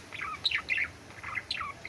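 Budgerigars chirping inside an aviary holding sixteen birds, a few bright short chirps and warbles in two quick clusters, fairly faint and slightly distant over quiet background, no talk.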